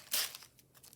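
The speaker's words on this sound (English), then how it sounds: "I'm gonna rip a piece, crumple it, put a dab of glue, and stick it down." Paper ripped and crumpled by hand for a leaf collage: one quick, crisp tearing rustle up close, followed by faint crinkling.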